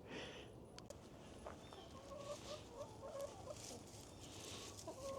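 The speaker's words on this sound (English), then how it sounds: "The chickens." Chickens cluck softly in a backyard food forest while waiting for scraps, a low scattered muttering of several birds over quiet outdoor ambience.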